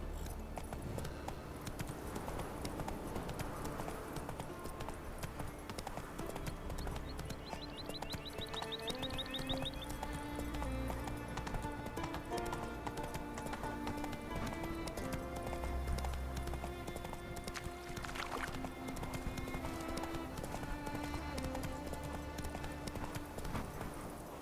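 Roach, a horse in The Witcher 3, keeps up a steady stream of clip-clopping hooves throughout, moderately loud under a continuous layer of game music.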